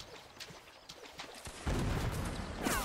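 Cannon fire rolls across a Mount & Blade Napoleonic Wars battlefield, with scattered distant shots before a heavy, sustained roar of gunfire and booms kicks in and carries to the end, with a sharp burst near the close.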